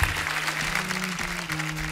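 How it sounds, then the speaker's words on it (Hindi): Studio audience of The Kapil Sharma Show, a Hindi comedy TV show, applauds the guests: a loud, dense, continuous clapping over a steady low sustained tone throughout the short stretch. "आज हमारे मेहमानों के नाम एक बार ज़ोरदार तालियां हो जाएं"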